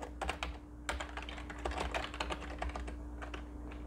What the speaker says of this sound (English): I'm gonna type a command that should dump the contents of this tape